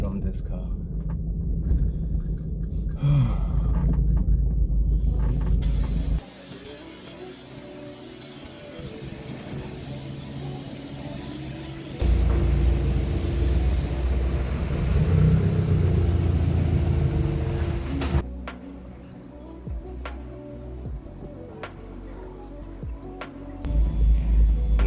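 A car engine idles and rumbles steadily at low pitch, with brief shifts in level, while people talk over it throughout.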